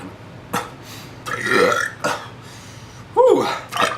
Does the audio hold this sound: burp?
yes